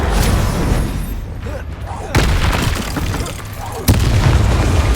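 Booming spell blasts in Hogwarts Legacy crash with heavy low rumble and sudden sharp onsets, two big impacts standing out over a continuous loud barrage of game effects.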